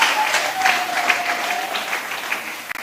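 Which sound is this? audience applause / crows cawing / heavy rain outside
audience applause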